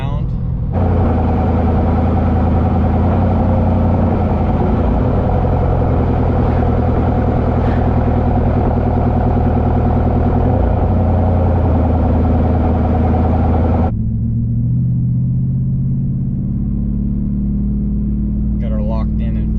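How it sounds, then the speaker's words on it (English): Car exhaust after a free exhaust hack, a low steady rumble from the back of the car with no drone, loud and continuous for most of the clip before settling to a quieter idle-like hum. "No drone, just a little rumble back there, and it doesn't sound bad."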